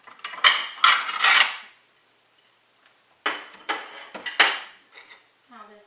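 Ceramic plate and metal cutlery clatter while snickerdoodle cake is served, a few loud close clinks and scrapes in two bursts with a quiet pause between, ending on a short voiced sound.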